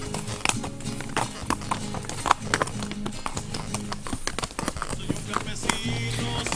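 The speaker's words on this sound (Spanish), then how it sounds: "Se agita tu caballo" Horse hooves clip-clop in a quick, uneven rhythm of close knocks on a mountain cattle-driving trek, mixed with rustling, tack noise and a steady background hum.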